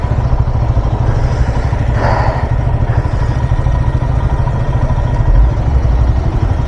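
A Royal Enfield Himalayan motorcycle engine thrums loudly and steadily while riding through heavy traffic on the way to the Kumbh Mela, a constant close rumble with brief horns and traffic clatter around it.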